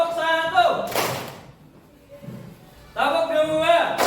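A classroom of students playing a concentration clap game claps together once, a single sharp group clap falling between stretches of a teacher's voice.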